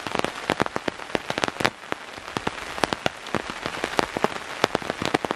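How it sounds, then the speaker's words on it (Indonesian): Heavy rain pelts a camp at a mountain site, dense sharp drops tapping constantly in irregular bursts, loud and close with no voices. "hari ini saya mau camping dan keadaannya sekarang lagi hujan ya"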